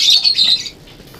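Fischer's lovebirds, blue and split ino breeding birds, let out a sharp, shrill burst of squawking chirps close by that quickly fades to quiet.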